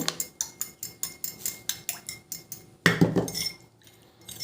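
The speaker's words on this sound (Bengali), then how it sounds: "দিয়ে নারকেল তেলটা ভালো করে এই জলের সাথে আমি মিশিয়ে নেব।" A metal spoon clinks rhythmically against a glass while stirring coconut oil into water, about a dozen even, bright taps close by, followed by a louder jumbled clatter and then quiet.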